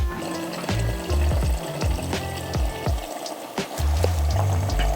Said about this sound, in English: I can just kind of add water and I'm good to go.